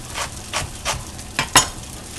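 Fried rice with fresh green onion stirred in a pan: a few rhythmic scraping stir strokes over a soft sizzle, close and moderately loud, ending in a sharper clank.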